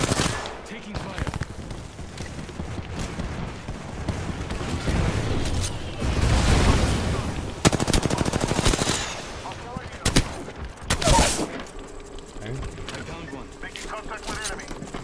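Automatic weapon fire in a round of the video game Apex Legends, with rapid bursts and loud volleys swelling in the middle and near the end, mixed with players talking over the shooting.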